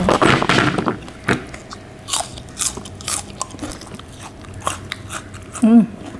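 Someone bites and chews food, crunchy bites and wet chewing close to the mic in uneven bursts, with a brief voice near the end.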